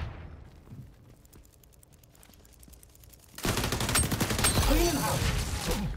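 Gunfire from the XDefiant video game, where sniper rifles are in use: after a quiet stretch of low game ambience, a loud dense burst of shooting starts suddenly and keeps going to the end.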